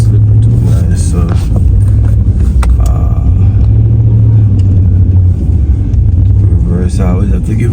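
A snow-clearing machine engine rumbles and revs hard while loading a frozen, slippery snow heap, a loud steady drone with rising surges and some clanking, as a person talks over it.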